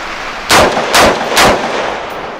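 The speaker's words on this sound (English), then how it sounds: "So starting off with the hex mag, we are shooting M80 ball military surplus ammunition." Three sharp, loud gunshots from a Diamondback DB10P AR10 pistol firing M80 ball military surplus ammunition, spaced about half a second apart, each a close blast with a brief ringing tail.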